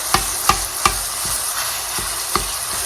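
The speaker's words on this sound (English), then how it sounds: "Okay, let me stir it." Smoked paprika being stirred in a frying pan, a quiet continuous sizzle broken by several sharp scraping clacks of the utensil against the pan at an irregular pace.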